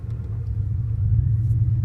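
A truck engine pulls away from a stop, with a steady low rumble that swells louder as it accelerates, heard close from inside the cab with no talking.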